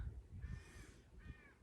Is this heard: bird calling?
yes